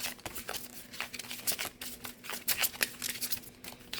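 A Dark Mirror Oracle deck is shuffled by hand, quick rapid riffles and papery flutters at close range, arriving in uneven bursts.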